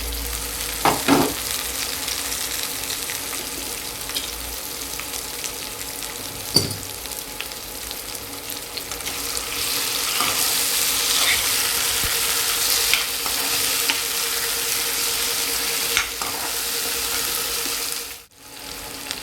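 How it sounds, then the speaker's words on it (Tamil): Chopped tomatoes sauté in a hot pan with oil, giving a steady close sizzle and crackle that runs throughout, broken by a few soft stirring scrapes and knocks before a brief dip near the end. "அடுத்தது கட் பண்ணி வச்சுருக்கிற தக்காளியை போட்டு நல்லா வதக்கிக்கலாம்."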